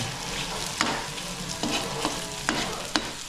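Hotdog and corned beef fry in cooking oil with a steady, close sizzle, broken by a few sharp stir-and-scrape clicks from the pan.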